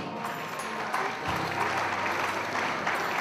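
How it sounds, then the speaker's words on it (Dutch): Audience applause for the winner of a culinary competition in Haspengouw, a steady wash of clapping filling the space, with a brief low bump partway through. "Is voor de heer Lorenz Lijksteen graag een applaus, alsjeblieft"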